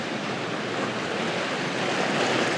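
Sea waves wash against Malta's coast in a steady, broad roar of surf, close and loud with a windy wash over it, continuous and without voices.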